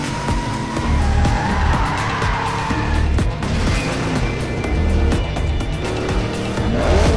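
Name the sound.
car accelerating hard with tires skidding, movie sound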